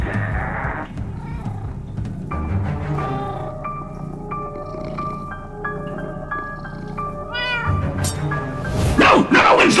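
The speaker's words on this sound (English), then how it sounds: "Bad kitty! Stop it!" A cat in the video game Minecraft: Story Mode meows repeatedly in a series of short tonal calls, with game music and effects beneath and a loud burst of noise at the end.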